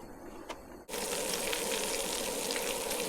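Bacon and eggs frying in a pan at a canoe campsite, a steady close sizzle that starts abruptly after a brief quiet moment and continues unbroken.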